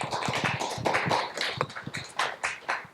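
Audience applause at an investor panel elevator pitch event: dense, steady clapping from a room of people, fairly close and sustained for the full stretch with no talking over it.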